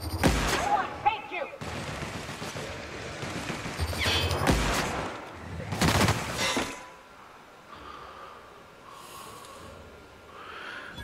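Gunfire in the video game The Outer Worlds: several bursts of loud, sharp shots cluster across the first seven seconds, then give way to quieter game ambience with faint breathy sounds.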